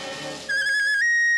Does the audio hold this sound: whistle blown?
yes